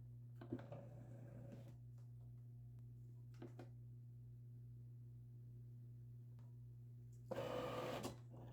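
A cutting machine slicing orange vinyl on a cutting mat: a steady low motor hum with short whirring carriage bursts and a louder final run, quiet and close.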